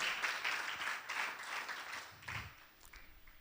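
A church congregation claps together in applause, a dense, steady patter of many hands that fades toward the end, with a faint voice rising briefly beneath it.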